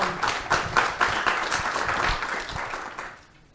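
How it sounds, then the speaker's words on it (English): A conference audience at Openwest 2014 claps for the event's sponsors, a crisp patter of many hands that holds steady and then fades away toward the end. "yes, you can clap for them."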